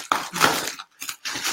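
Bubble wrap being pulled off and unwrapped during an essential oils unboxing, heard as short crinkly plastic rustles and crackles in two close bursts with a brief pause between them.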